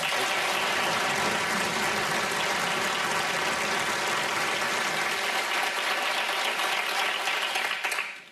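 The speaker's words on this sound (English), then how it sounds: "Let's hear a round of applause" Dense, sustained audience applause welcoming candidates at a Virginia gubernatorial debate, a loud even wash of many hands clapping for about eight seconds before cutting off.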